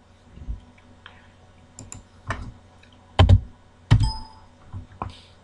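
Computer keyboard keys are tapped while code is typed for a create, read, update and delete data program: scattered, irregular clicks and thunks, a few louder strokes among soft ones, close by with no talking.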